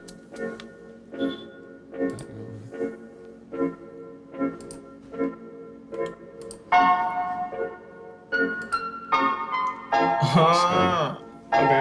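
A beat with a regular ticking, bell-like pulse repeating steadily, joined partway through by brighter melodic bell tones that layer up toward the end.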